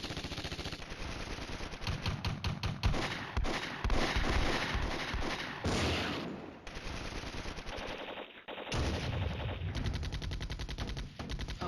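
Dense, continuous artillery and gunfire barrage on a hex in Flashpoint Campaigns: Red Storm, a Cold War tank wargame, with loud rapid bursts and booms running nearly nonstop, briefly dropping out before resuming.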